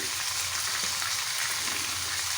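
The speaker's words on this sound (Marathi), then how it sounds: "तव्यामध्ये मी तेल टाकून घेतलं आहे ह्या तेलामध्ये कांदा टाकून घेऊया" Onion and garlic frying in oil in a pan, a steady, dense sizzle that stays even and fairly close throughout, with no voices over it.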